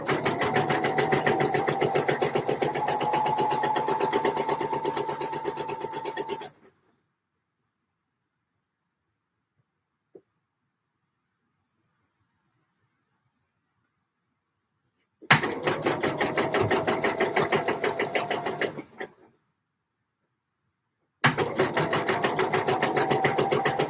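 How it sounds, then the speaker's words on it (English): A sewing machine fitted with an edge stitching foot sews a dress. Three fast, close runs of stitching are separated by stretches of silence, with one short click in the first gap. "Having a proper edge stitching foot's going to be really nice"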